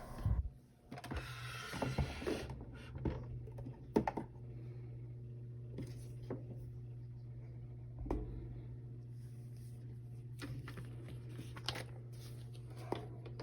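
A laminator draws paper sheets through its rollers with a steady low motor hum, broken by a few soft clicks and rustles near the start; no one speaks.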